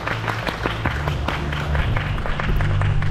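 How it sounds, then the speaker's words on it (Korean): An audience applauds after a cybersecurity lecture at a hacking contest event, scattered claps over a continuous low hum in a hall, fairly close and steady throughout. "다시 한번 박수 보내주시기 바랍니다."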